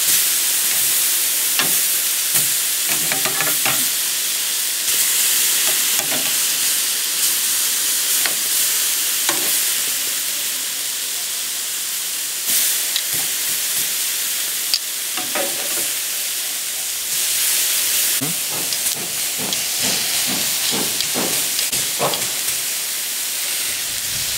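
A machete steak sizzles hard in a hot pan, a loud, steady frying hiss with bursts of spitting fat and faint clinks, close and continuous with no talking.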